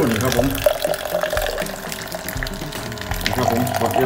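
Water gushes strongly from the tap of a newly unboxed water machine, a steady rushing pour lasting throughout, with someone talking over it.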